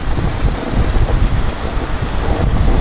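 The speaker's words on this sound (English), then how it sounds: "it's getting cold and it's very windy" Strong, cold wind at about 11,600 feet altitude buffets the microphone nearby, a loud, rough roar that gusts and churns without pause.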